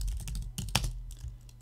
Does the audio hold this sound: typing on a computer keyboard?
yes